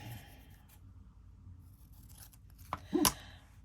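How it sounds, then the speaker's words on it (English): Scissors cut out paper shapes for a Halloween paper chain craft, with faint, quiet snips followed by a brief sharper cut and crinkle near the close. "And then I'm going to cut those out."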